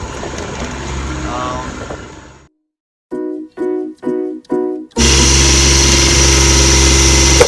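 Boat engine running while the boat is under tow, a steady mid-pitched drone with a loud hum, then a silent gap and a few short rhythmic bursts before a louder continuous engine roar returns.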